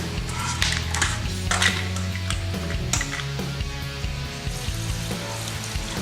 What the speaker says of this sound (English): We'll give these a nice rinse.